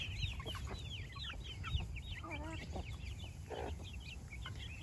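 Several broody hens cluck and chatter close by in a steady, busy flock murmur, with short repeated calls overlapping under a faint background hum.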